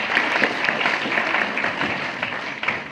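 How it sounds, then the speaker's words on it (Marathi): An audience claps steadily to welcome a guest, giving a dense, continuous patter of applause at moderate loudness for the full few seconds. "आपण त्यांचं जोरदार टाळ्या वाजवू."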